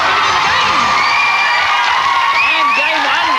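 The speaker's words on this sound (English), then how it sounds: "A lot of cheering coming from their support group." A children's support group at a school quiz game cheers after a win, a loud continuous crowd of high-pitched shouts and whoops that carries through the whole stretch.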